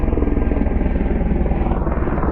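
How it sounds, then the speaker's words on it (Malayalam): A helicopter flies near the Everest Base Camp trail in snowy mountain conditions, its rotor beating in a steady, rapid, loud throb that holds for the whole stretch with no talk. "ഹെലികോപ്റ്റർ പോന്നു"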